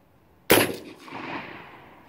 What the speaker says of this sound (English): I'm going to shoot over here on the side a little bit farther away.